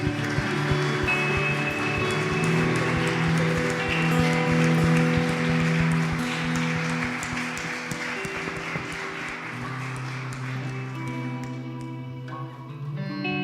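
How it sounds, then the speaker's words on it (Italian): Congregation in a church service clapping together in sustained, dense applause over organ or keyboard chords and music, steady and loud throughout. "Possiamo fare un applauso al Signore."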